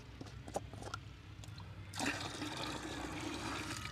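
Liquid poured from a can into a tractor engine cylinder to gauge its capacity, a steady gurgling stream that swells louder midway and continues without talk.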